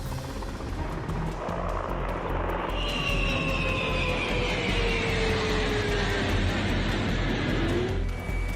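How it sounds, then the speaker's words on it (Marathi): Russian fighter jets over Ukraine during air strikes: a sustained loud engine roar with whining tones that slide downward as the aircraft pass overhead. "युक्रेनचं आकाश रशियाच्या लढाऊ विमानांच्या गर्जनांनी दणाणून गेलंय"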